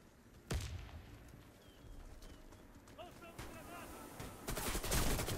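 Sharp AK-47 shots ring out in the Warface video game, with a few distinct reports spread across a quiet, softly noisy background.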